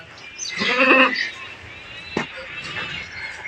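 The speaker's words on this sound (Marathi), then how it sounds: "तर अशा पद्धतीची आहे मित्रांनो ही माझी शेळी" A nursing doe goat with three kids gives one close, loud bleat, followed by quieter farmyard sounds, and a person speaks nearby.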